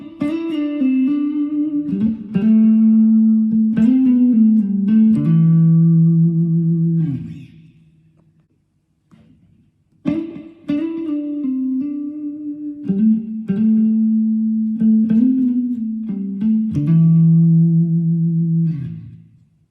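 Electric guitar lead line layered through a looper and effects, with sustained, echoing melodic phrases that repeat after a short near-silent gap, loud and close with reverb tails.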